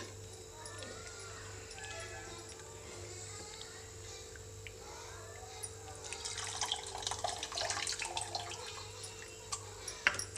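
Soaked tamarind water is poured for pani puri, giving faint liquid trickles and splashes that grow busier toward the end, set against a steady low kitchen hum.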